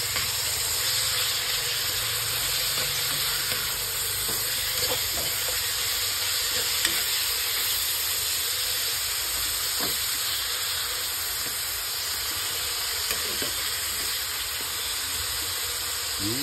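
Pancit lomi sizzling steadily in a pan while being stirred, a continuous dense frying hiss with faint scraping clicks of the utensil throughout.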